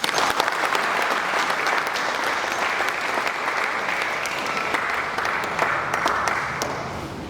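Dense, loud audience applause at a valedictory lecture honouring a retiring professor, sustained clapping from a large crowd that holds steady and tapers slightly at the end.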